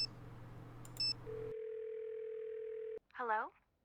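In a Nancy Drew video game, a phone's steady dial tone hums for about a second and a half, following a short beep and preceding a brief electronic chirp, clear and close.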